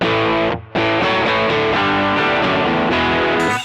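Electric guitar through a TC Electronic Nova Drive Tubescreamer overdrive, a Telecaster into a Marshall-style amp, playing sustained distorted chords with mid-range push, loud and alone with a brief gap early on.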